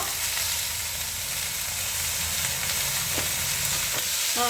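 Coriander and mint leaves sizzle in hot oil in a pan for mutton pulao, a loud, steady frying hiss throughout with occasional scrapes of stirring near the end.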